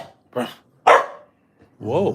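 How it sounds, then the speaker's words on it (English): A dog barks three times up close, short sharp yaps separated by brief silences, the last one a longer, whinier bark. "Whoa, that was a bark."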